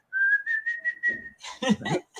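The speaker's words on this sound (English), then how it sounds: "Can you whistle? Well, I'm not very good at it. Let me try." A person whistles a short wavering tone, one sustained pitch broken into several soft pulses, before a voice starts talking close by.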